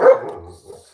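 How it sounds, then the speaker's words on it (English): A single sharp bark from a dog in a home, loud and close, followed by a brief softer trailing whine. "the dog sounds like he agrees as well"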